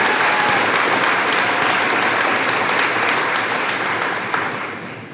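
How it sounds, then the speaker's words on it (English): A graduation audience applauds in a dense, sustained wave of clapping that holds steady and then tapers slightly toward the end, with no voices over it. "that deserves a round of applause as well"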